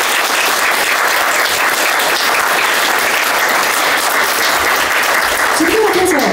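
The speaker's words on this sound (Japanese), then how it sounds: "皆様今一度大きな拍手をお送りください。" An audience applauds steadily at the close of the 17th Mynavi Women's Open shogi queen inauguration ceremony. The full, dense clapping runs throughout at an even, sustained level.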